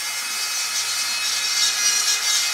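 A grinder works on the metal of a race car, producing a continuous, harsh, high-pitched rasp that swells slightly toward the end. It is close and loud, with no talking.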